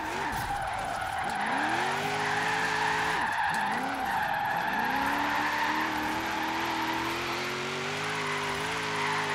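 In the Forza Horizon 3 racing game, a car drifts with its tires squealing loudly and continuously while the engine revs rise and dip between gear changes, a sustained skid lasting several seconds.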